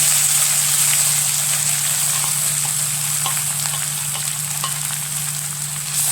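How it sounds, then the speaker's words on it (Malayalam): Crushed coconut, green mango and curry leaves fry in a pan over high flame while being stirred. A loud, steady sizzle continues throughout with faint scraping clicks and a low background hum. "ഹൈ ഫ്ലെയിമിലിട്ടിട്ട് ഇളക്കിക്കൊണ്ടിരിക്കുക."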